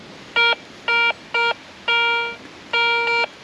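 Garrett Ace 250 metal detector sweeping over a 4-inch bottle cap, sounding five clear electronic tone beeps of uneven length, each a steady buzzy pitch with a quiet pause between, alone and close.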